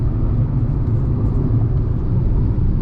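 Tata three-cylinder car cruising on a highway at around 100, heard from inside the cabin as a constant low road and engine rumble with a steady hum and no talking.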